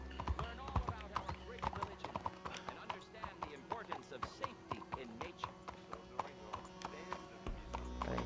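Horse hooves clip-clop in a steady, quick rhythm in the video game Red Dead Redemption 2, the crisp evenly spaced beats continuing alongside game sounds and a voice speaking at times.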